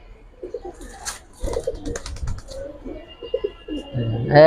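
Giribaz pigeons coo in repeated soft throaty phrases close by, with someone talking over them and a sharp squeak or rustle at the end.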